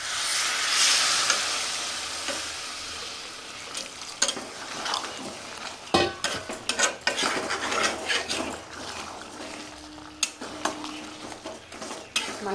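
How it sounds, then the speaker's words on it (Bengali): Hot water poured into mutton frying in a pan for a Bengali-style mutton curry, a loud sizzling rush that fades into scraping and stirring clatter of a utensil against the pot, close up. "আমি এবার গরম জল দিয়ে দেবো মাংসতে।"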